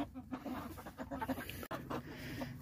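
Chickens clucking and murmuring inside a chicken tractor, a steady low-level chatter of several birds with soft calls spread through the short stretch, fairly close.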